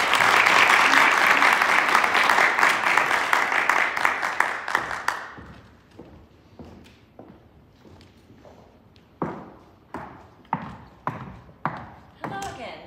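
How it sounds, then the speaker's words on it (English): Audience applause at a diplomacy and leadership summit, loud dense clapping that fades out after about five seconds, leaving scattered footsteps and a few isolated claps in a large room. "So I applaud you, and thank you very much."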